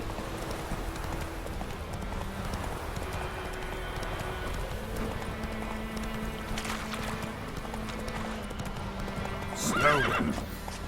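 A horse gallops in The Witcher 3 video game with steady, continuous hoofbeats, then gives a loud whinny near the end, over game ambience and background music.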